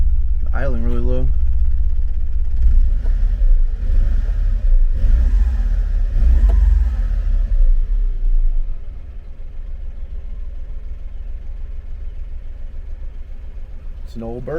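An old 1991 Honda Acty engine idles very low, a steady deep rumble that drops a little partway through, with a voice briefly talking near the start and end.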